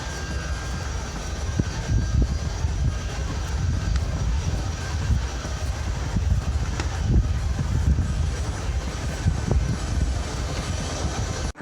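A military transport aircraft backs into position at an airshow, its engines producing a steady, loud, broadband roar and rumble that holds throughout without speech.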